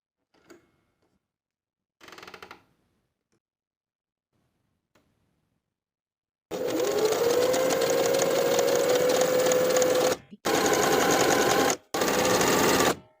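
A sewing machine runs a wide zigzag top stitch along a knit cardigan placket, humming steadily up close in three bursts with brief pauses, after a few faint handling taps.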